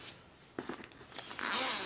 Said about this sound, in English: We got the big zipper on the side.